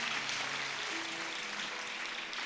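Congregation clapping for the Lord during a fasting prayer service, a steady dense wash of hands that holds at an even level throughout, with faint murmuring and a few sustained tones underneath.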